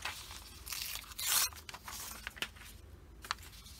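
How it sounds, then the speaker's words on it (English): Paper tearing from a vintage book page, a slow, close rip with crinkling and crunching bursts that rises to a louder tear before a few softer rustles. "So I think I'm going to just tear a piece of it"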